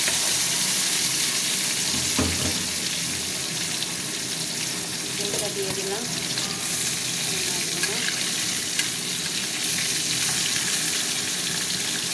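Small fish sizzle steadily in hot oil in a pan, a loud, dense, unbroken frying hiss that carries from start to finish with only faint clinks underneath.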